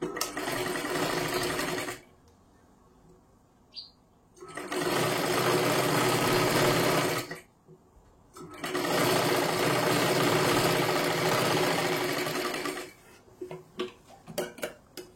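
A sewing machine stitches the sleeve seam of a four-tuck size 36 blouse, running in two long steady bursts with a pause between, loud and close, followed by brief clicks and handling.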